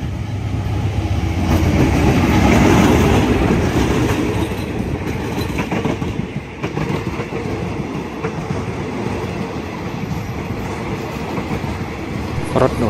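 Express train number 83 from Bangkok to Trang passes Prachuap Khiri Khan station, a loud close rumble with rhythmic clickety-clack of wheels that stays steady throughout.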